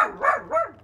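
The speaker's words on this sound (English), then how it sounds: "My dog's barking at the neighbors." A dog barks at the neighbors: two or three quick, close barks in rapid succession, loud and alone.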